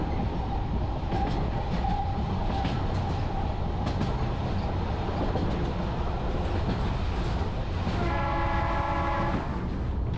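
A train running on a Czech narrow gauge railway, heard from inside as a continuous rumble of wheels and carriage noise, with a sustained horn sounding near the end, fairly loud and steady.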